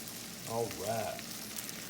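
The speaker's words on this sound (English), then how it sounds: "That's the sound you want to hear. You want to sear in your meat." A New York strip steak searing in a very hot skillet gives a soft, steady sizzle beneath a brief murmur of voice, quiet and close throughout the short moment.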